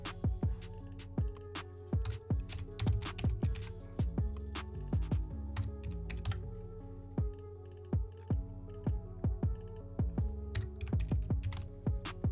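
Computer keyboard typing as track names are entered in a Studio One music production session, a brisk irregular run of close, crisp keystrokes over a low steady hum.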